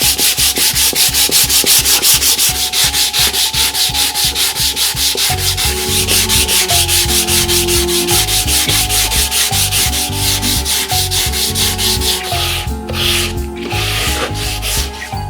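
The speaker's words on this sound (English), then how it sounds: "you've got to be prepared to then sand them off with a sanding block" A sanding block rubs back and forth across the wooden cabinet of a UNIC 'Royal' radio during restoration, loud close rhythmic scraping strokes at a steady pace, with no talking.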